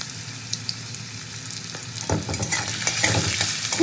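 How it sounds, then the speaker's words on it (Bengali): Potato pieces frying in a pan with a little salt and turmeric, close up: a steady hiss of hot oil with scraping, clattering stirring strokes that grow louder and busier toward the end, no talking. "আলুটা ভাজতে একটু নুন আর হলুদ দিয়ে দেবো অল্প করে"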